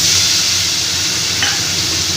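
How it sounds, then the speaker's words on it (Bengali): Ground onion paste frying in hot oil for a Bengali doi katla curry, a loud, steady sizzle and hiss with faint stirring scrapes. "পেঁয়াজটাকে আমি এবার একটু ভালো করে লাল লাল করে ভেজে নেব"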